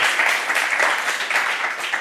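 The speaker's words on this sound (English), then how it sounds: "Yeah, you can applaud." Audience at a cleantech startup competition final event applauds a co-founder walking onto the stage, dense steady clapping throughout.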